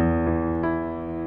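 Piano playing a brief phrase of Für Elise with the sustain pedal down, a couple of soft note onsets blurring into a sustained, ringing wash that slowly fades.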